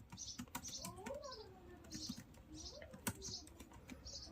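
Keys clatter steadily on a computer keyboard as code is typed, a close, fast irregular run of clicks with a louder tap near the end, while a person talks faintly over it.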